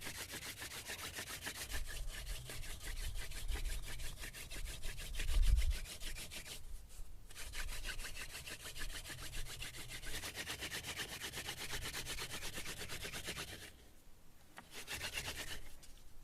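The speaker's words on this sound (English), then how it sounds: "By performing the hand drill, I can make the hole deeper." A wooden spindle spun between the hands in a hand-drill friction fire, rubbing rapidly and rhythmically in a wooden hearth board, a continuous close scraping grind broken by brief pauses to reset the hands.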